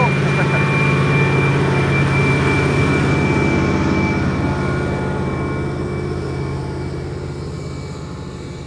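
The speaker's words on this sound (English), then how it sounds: "First arrival to runway 27 is already coming." An arriving airliner rumbles in toward runway 27 at Amsterdam Schiphol, a loud, steady broadband roar with a faint whine that slowly fades as it passes, with no talking over it.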